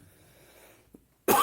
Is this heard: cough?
yes